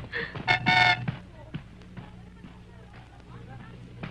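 Car horn honking twice in quick succession, loud and close, followed by background street noise and voices talking.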